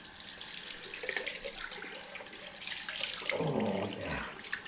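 Cold water runs from a tap for rinsing after a head shave, a steady close splashing stream that grows fuller toward the end.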